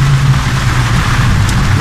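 Heavy rain from a passing shower pounding a moving car while driving on a flooded road, a loud dense roar of drops blended with engine and road noise, continuous and close.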